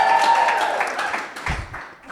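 Brief audience applause at a live talk in Boston with marathon runner Des Linden, a dense clapping wash from a crowd that fades within about two seconds, with a thump near the end.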